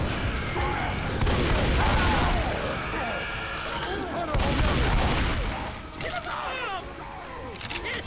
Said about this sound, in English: So I guess 20 direct shots with a sniper rifle isn't enough to kill a hunter anymore